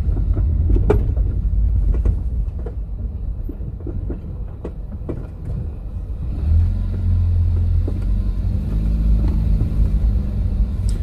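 A car with worn front-end subframe bushings rumbling over a rough road, a low continuous drone with scattered clunks and knocks from the suspension that grows heavier and louder partway through.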